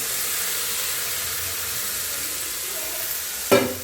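Tomatoes and green chilies sautéing in a pan for a pappadam curry give a steady, close sizzle and hiss, with a short clatter of stirring near the end.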